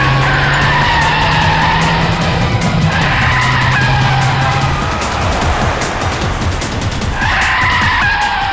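A car skids hard with long, loud tire squeals that rise and fall over several seconds, a dramatic brake-failure screech with no voices over it.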